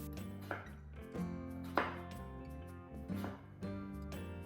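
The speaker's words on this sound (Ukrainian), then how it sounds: "Гарбуз нарізаю і очищаю від шкірки." Quiet, regular knife strokes chop through firm pumpkin, about one cut per second, close by over soft background music.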